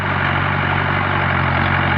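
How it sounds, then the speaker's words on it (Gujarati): A 2002-model 475 DI tractor ploughing a field gives off a loud, steady diesel drone with a low, throbbing hum, close and unbroken with no voices. "ઘણા સમય પછી આપણે ટ્રેક્ટરને ચાલુ કર્યું છે"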